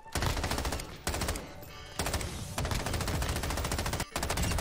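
Dense automatic gunfire from a first-person shooter video game, loud and continuous bursts with two brief pauses, alone without talk.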